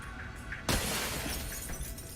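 Glass shatters in the video game Alpha Protocol, a sudden loud crash followed by a bright tinkling spray of falling shards that rings on for over a second.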